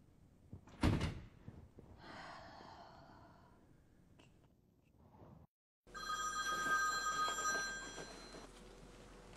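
A door slams, then a phone rings with a steady electronic tone from the other side of a closed door.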